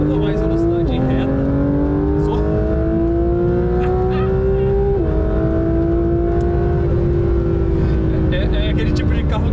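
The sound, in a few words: Porsche 911 GT3 RS accelerating through a corner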